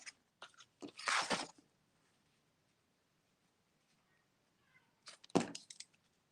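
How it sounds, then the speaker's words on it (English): Two short bursts of crunchy, scratchy noise from a cat, separated by a few seconds of near silence. "My cat is being very, very noisy."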